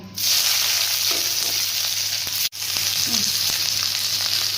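Onions frying in hot oil tempered with bay leaf and dried chilli, a loud, continuous close sizzle with a brief break midway before it resumes.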